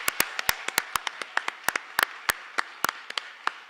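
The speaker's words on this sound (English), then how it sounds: "one last huge round of applause" Sparse applause from a small audience in a hall at a Canada 150 youth event, individual sharp claps scattered irregularly, a few hands at a time, fairly close.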